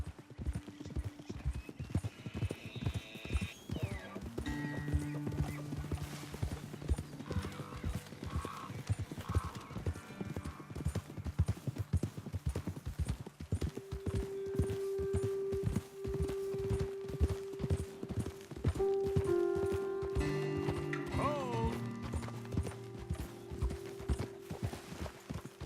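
Horses in Red Dead Redemption 2 clip-clop at a steady walk on a trail, with rhythmic hoofbeats throughout, an occasional whinny, and faint tonal music in the background.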